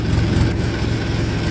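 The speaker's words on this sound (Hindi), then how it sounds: "तो ये भी सामने से मैसी आ रहा है" A Massey tractor engine at a sugar mill yard rumbles with a steady, heavy low drone, close and continuous throughout.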